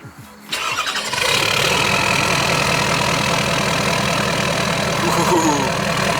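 After a short crank, a tuned, deleted diesel Ford F250 Super Duty engine catches and settles into a loud, steady rumbling idle that continues to the end.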